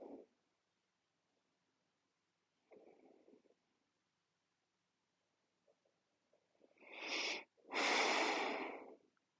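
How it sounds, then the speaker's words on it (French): A person lying face down during a postpartum back exercise takes a few deep breaths, with soft inhales and then two louder, rushing exhalations close to the microphone. "prenez quelques respirations"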